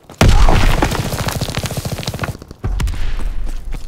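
In Call of Duty WWII, a loud opening boom is followed by a rapid, close burst of automatic gunfire whose shots taper off. A second heavy blast hits near the end.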